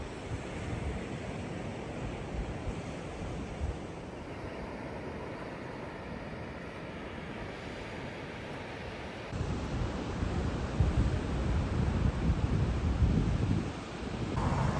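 Strong wind buffets the microphone on a cloudy, windy beach, a continuous broadband roar that surges louder partway through, with no voices.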